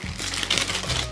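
A small plastic bag of colourful 40-pin connectors crinkles and rustles up close in short, irregular bursts, with no talking over it.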